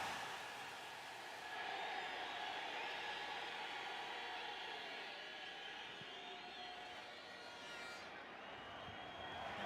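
Broad, steady crowd noise fills a Tegucigalpa stadium during a Honduras versus Grenada football match, a distant sustained roar that swells slightly midway with a faint whistle and stays constant to the end.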